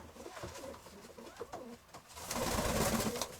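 Pigeons give repeated throaty coos close by, rising into a louder rustling flurry of movement near the end.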